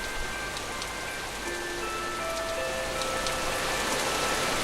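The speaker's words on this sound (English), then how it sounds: "It was raining harder than ever now." Steady, heavy rain pours down throughout, a dense continuous hiss with scattered drops spattering on surfaces nearby.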